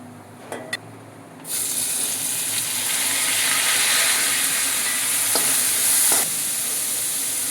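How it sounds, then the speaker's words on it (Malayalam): Three finely chopped onions drop into hot oil for a potato fry, setting off a loud, steady sizzle that swells and holds, after a few faint clinks in near silence at the start. "അപ്പോൾ ഇതിലേക്ക് നമുക്ക് അരിഞ്ഞു വെച്ചിട്ടുള്ള സവാള ചേർക്കാം"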